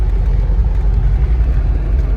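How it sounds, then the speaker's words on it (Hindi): A Mahindra Bolero BS6 engine runs steadily close by with a low, even rumble, its condition marked by a DEF urea fault. "गाड़ी रनिंग में है।"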